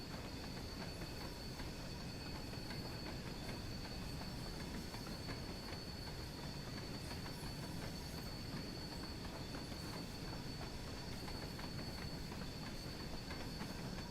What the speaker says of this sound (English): So this was the first of the steam train routes for Train Sim World.